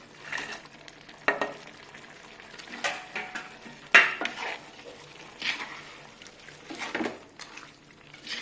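Fried chilli chicken is stirred into a Manchurian masala gravy, with irregular spoon scrapes and clanks against the pan over a soft sizzle and bubbling.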